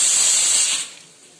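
Cumin seeds dropped into hot oil in a kadai give a loud, dense hiss that holds steady for most of a second, then fades to a faint lingering crackle.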